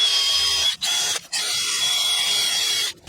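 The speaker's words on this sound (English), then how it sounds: "these little edges right here where the pads ride, I'm going to clean those up with a wire wheel" A wire wheel on a power tool cleaning the pad contact edges of a brake caliper on a 2002 Dodge Dakota SXT, a loud high-pitched whirring grind broken by two brief pauses, up close with no talk.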